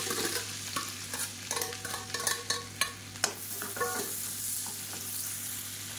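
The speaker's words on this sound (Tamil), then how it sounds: "சீரகம் பொரிய ஆரம்பிக்கவும் பொடியாக நறுக்கின வெங்காயம்" Chopped onion frying with cumin seeds in hot oil, a steady close sizzle with repeated stirring and scraping clicks from a utensil in the pan, no voices.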